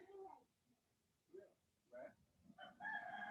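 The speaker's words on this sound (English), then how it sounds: "That cockerel is going for it." A cockerel crows in short, faint bursts from a distance, spaced out over a few seconds in an otherwise quiet room.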